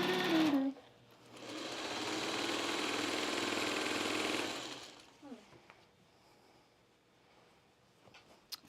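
A home sewing machine runs steadily for about four seconds while sewing seams on a jelly roll race quilt, a loud continuous whir that stops abruptly; faint voices and small clicks follow.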